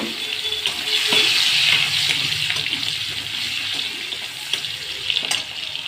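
Onions frying lightly in a pan after prawns in a home kitchen, giving a steady hiss and sizzle that is fairly loud and continuous, with small clatters of stirring.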